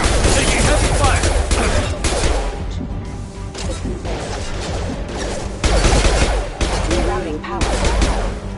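Heavy gunfire in the video game Mass Effect 2, loud rapid bursts of shots and impacts in a dense barrage, with brief lulls between volleys and combat voices mixed in.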